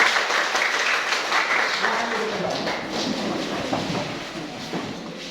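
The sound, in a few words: audience applause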